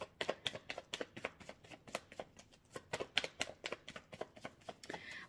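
Oracle cards are shuffled by hand for a pyramid spread, a close, quiet run of rapid rhythmic riffling slaps with no talking.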